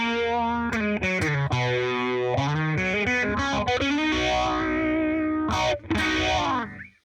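Guitar through a distortion pedal in a pedalboard signal-chain demo: sustained, saturated chords and single notes with a thick, buzzy tone, played alone and loud, ringing out before cutting off at the end.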